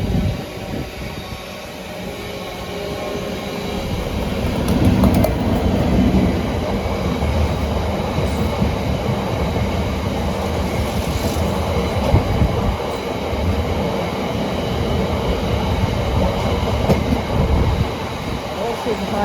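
A Class 59 diesel locomotive passing a London railway location, its steady heavy rumble and rolling wheel noise filling the whole stretch at fairly close range, with faint voices in the background.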